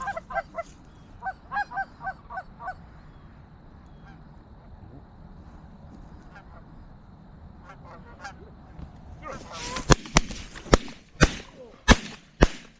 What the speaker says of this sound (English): No, those are geese.